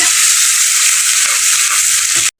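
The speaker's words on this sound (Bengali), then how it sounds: "কেটে রাখা পেঁয়াজ কুচি এবার আমি পেঁয়াজটাকে লাল করে ভেজে নেব" Chopped onion fries in hot oil with cumin, producing a loud, steady bright sizzle close by that runs unbroken for about two seconds and then cuts off abruptly into silence.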